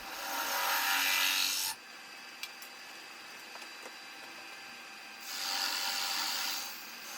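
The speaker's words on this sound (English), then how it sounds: "I'm just going to cut another mortise just to be able to hold it again when I turn it around" Rough, steady rasping of a tool cutting a mortise into a wooden bowl blank on a lathe, running in two loud sustained passes with a quieter stretch of faint ticks and hum in between, with no voices.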